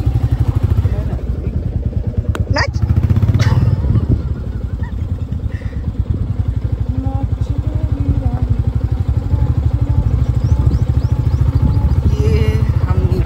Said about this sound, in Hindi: भाई सोन तो अपनी बाइक उतरवा रहा है